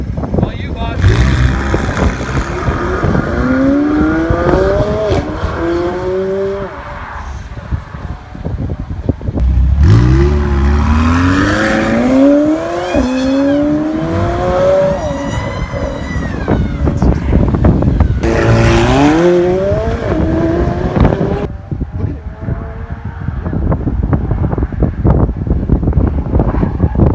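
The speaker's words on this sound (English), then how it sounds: "McLaren's on its way up." A 2019 McLaren 720S sports car with 710 hp pulls away and accelerates hard, its loud engine rising in pitch through three gear-change sweeps, with wind buffeting and voices in the background.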